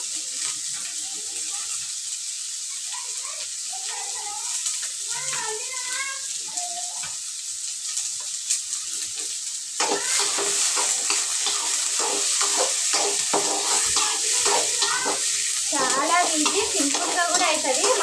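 Onions and masala fry in a pan with a steady sizzle and scraping stirs, quieter at first and then louder and denser through the second half, with faint voices in the background.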